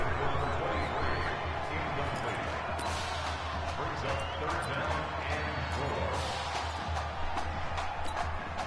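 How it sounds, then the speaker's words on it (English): A large Madden NFL 20 video game crowd roars steadily throughout, a dense stadium-like din with scattered shouts and a few thumps, under a faint commentator voice. "this crowd urging on their defense. They're up and making noise."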